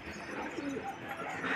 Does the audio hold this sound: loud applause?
no